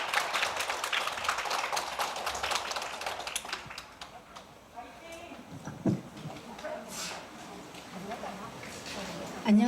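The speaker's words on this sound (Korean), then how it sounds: "뜨거운 박수로 응원 부탁드리겠습니다" Audience applause at a university graduate school's international academic conference, cheering on a nervous undergraduate presenter; dense clapping fills the first few seconds, then thins and fades as the room quiets and voices take over.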